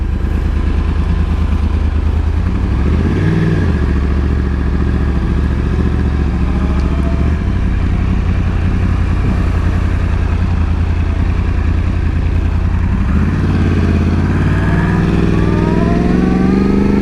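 A Yamaha YZF R1 1000cc superbike rumbles loud and close from the rider's position, revving up early, settling into a steady engine drone, then accelerating again with climbing revs near the end.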